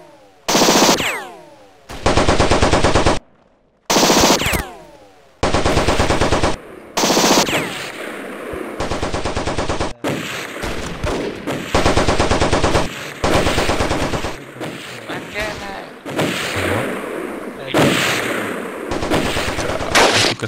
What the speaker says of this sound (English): Is anyone in our team shooting as well?